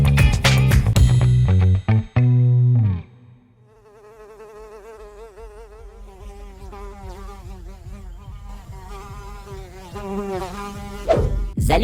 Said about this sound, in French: Les mouches font partie des acteurs du compost, mais elles peuvent vite devenir envahissantes.